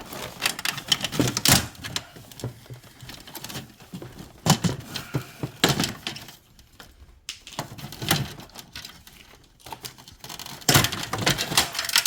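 Plastic clips snap loose one after another as a Samsung round air conditioner is taken apart, giving sharp irregular clicks and rattles close by, with brief quiet gaps between them.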